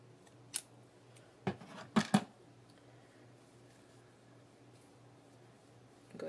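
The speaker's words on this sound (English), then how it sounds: "take your scissors" A few quick snips of scissors cutting yarn, close and crisp, in a cluster of cuts over a quiet background.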